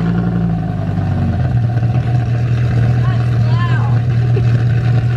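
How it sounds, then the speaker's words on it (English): A Dodge Viper GTS engine idles loudly right after a cold start, a steady deep rumble with a low droning pitch that settles slightly lower partway through, close and continuous. "Here's a cold startup on a Viper GTS."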